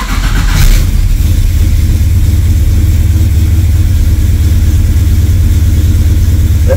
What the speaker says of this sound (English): another cold start test